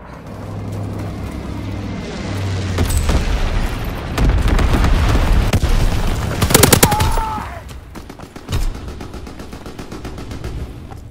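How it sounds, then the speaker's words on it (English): Incendiary bombs dropped by an enemy bomber in Call of Duty: WWII, heavy booms and rumbling blasts mixed with rapid bursts of gunfire and metallic cracks, loud and dense across the whole stretch. "Enemy bomber! Incendiary bombs incoming!"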